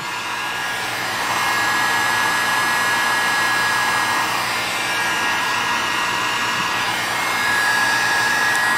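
A heat gun blows with a steady, loud whooshing roar and a thin whine while heating the braided cover on an R32 Nissan Skyline headlight wiring harness, running continuously without pause.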